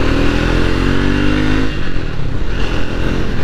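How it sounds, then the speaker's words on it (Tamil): Triumph Speed 400 motorcycle's exhaust note on a highway, a loud steady engine drone with rising harmonics as it accelerates, then a rougher rumble with wind noise, no voices. "ஸோ எக்ஸாஸ்ட் நோட்டுக்காங்க சுமார் தாறுமாறாக இருக்குது வண்டியில்."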